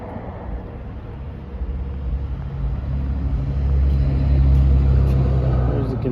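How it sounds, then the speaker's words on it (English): A 2023 AGT LRT23 mini skid steer loader runs with a steady, fairly loud low engine rumble that swells slightly toward the end, heard close by with no talk. "We'll do a quick little walk around here, fire it up for you and show you how it drives."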